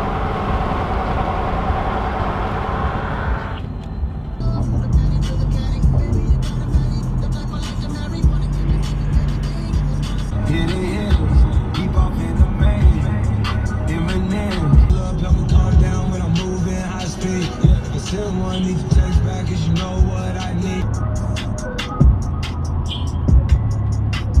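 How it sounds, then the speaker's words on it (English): Steady loud road roar from a vehicle on mud tires, a broad rumbling hum with a constant whine over it, close and continuous throughout. "Loud-ass mud tires."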